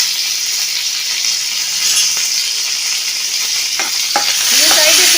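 Cashew nuts fry with a steady sizzle in a pan, broken by a few scraping stirs near the end; the hiss stays loud and close throughout.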